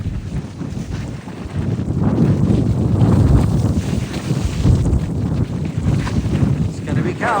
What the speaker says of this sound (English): I guess it's really windy.